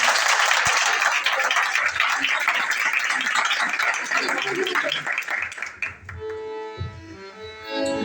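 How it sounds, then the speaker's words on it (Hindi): A church congregation at a Sunday service claps loudly together in worship, a dense wash of hands for several seconds before the clapping thins and a voice and musical tones take over near the end. "आइए उसके जलाल के लिए जोरदार तालियां बजाएंगे।"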